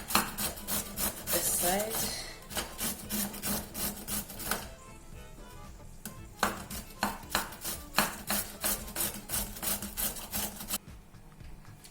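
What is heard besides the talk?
grating carrots with a grater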